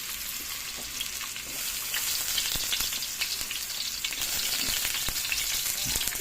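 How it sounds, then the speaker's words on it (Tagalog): Garlic sizzles and fries in a hot wok as the first step for pancit canton. The crackling hiss is loud and continuous and grows slightly stronger partway through, with occasional sharp pops over it. "Init na guys ang ating kawali. Lagyan natin ang bawang."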